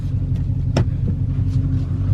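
A Dodge SRT moves along with no key fob inside, giving a steady low engine rumble at close range inside the car, broken by a single brief knock.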